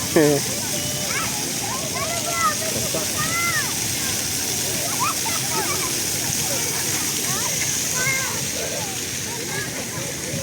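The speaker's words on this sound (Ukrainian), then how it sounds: "Який струмінь води." Water splashes and gushes continuously from a fountain jet near the Lviv opera house, with people chattering and calling out in the background throughout.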